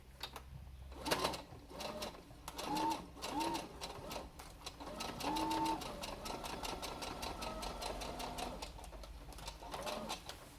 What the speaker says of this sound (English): go slowly as much as your sewing machine lets you